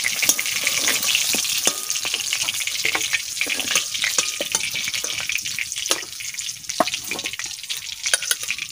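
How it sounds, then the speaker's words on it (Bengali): Fritters frying in a pan until reddish, a steady close crackling sizzle of hot oil with small pops and occasional clinks of stirring, continuous throughout with no talking. "এই যে লাল লাল করে আমি ভেজে নিচ্ছি।"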